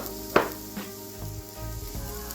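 Onions going back into a pan with cooked celery and carrots, a spatula knock at the start and then a steady low sizzle and stirring, close up with no talk.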